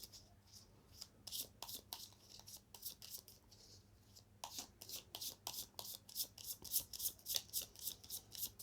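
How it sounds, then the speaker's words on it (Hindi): Tarot cards are shuffled by hand in a quiet room, soft riffling snaps in quick irregular bursts that pause briefly midway, then resume in a faster, steadier rhythm. "2 कार्ड्स आए हैं, मैं वापस शफल करूँगी।"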